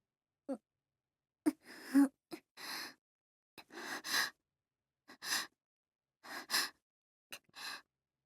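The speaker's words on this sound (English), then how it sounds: "I snap awake to the sound of someone breathing heavily a few inches from my ear" Heavy, close breaths right at the ear: a series of about eight separate sighing, gasping inhales and exhales, each short and irregular, with silent gaps between them and no talking.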